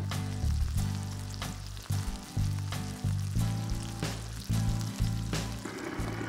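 Salmon fillets cooking in a frying pan give a loud, continuous close sizzle, broken by periodic stirring or shifting sounds and a low rumbling undertone.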